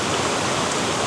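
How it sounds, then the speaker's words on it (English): Steady broadband rush of a stream flowing toward a main waterfall at an outdoor photography spot, continuous and fairly loud with no other sounds. "shoot straight up the stream towards the main waterfall there"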